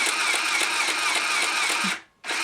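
A sewing machine with a short stitch runs steadily through a knitted yarn steek, giving a fast, even whirring hum up close, then stops briefly near the end before starting again.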